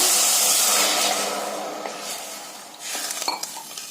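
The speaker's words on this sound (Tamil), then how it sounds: "1/4 லிட்டர் தண்ணிங்க ஊத்தி விட்டுருங்க." A loud hiss of water hitting a hot pan fades into bubbling, followed by a few metallic clinks of a utensil against the pan.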